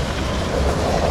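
A tram in Kryvyi Rih, Ukraine, gives a loud, continuous rolling rumble of rail wheels with faint clatter, close by and with no speech over it.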